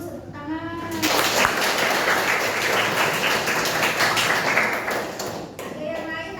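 A classroom of students applauds together, a steady, dense burst of hand clapping lasting several seconds, with a voice speaking briefly just before and after it.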